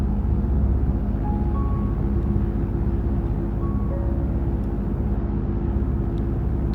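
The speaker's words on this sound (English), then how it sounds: "With the sounds of the fighter jets trailing, Margaret sets off the way she already came" Fighter jets pass overhead in the Project Zomboid video game, heard as a continuous low, rumbling roar that stays steady and fairly loud throughout.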